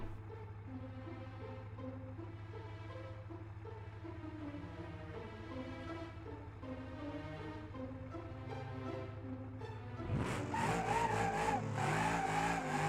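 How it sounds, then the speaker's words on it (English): A Gavril D-Series pickup truck set up for drifting in BeamNG.drive, its engine droning steadily and close, then revving harder near the end with tire squeal and skidding noise rising over it; no talk. "I can actually go ahead and give it a test drive to kind of see how it feels at the moment."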